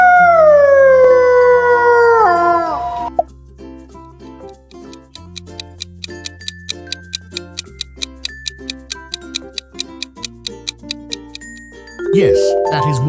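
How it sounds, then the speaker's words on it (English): A wolf's long, wavering howl rings out clearly for about three seconds, then gives way to music with a steady ticking beat, and a second short howl-like cry comes back near the end. "Yes, that is wolf."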